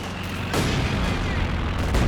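A satchel charge goes off in Company of Heroes 2, a loud booming blast with a sharp onset followed by sustained rumbling gunfire and battle noise, and a second burst near the end.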